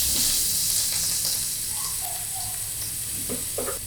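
Freshly grated coconut fries in a little oil in a pan, giving a steady, close sizzle with soft crackles and a few stirring scrapes near the end.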